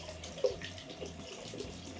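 A hotel bathroom tap runs warm water in a steady splashing stream, close by and moderately loud, with a small clunk near the start.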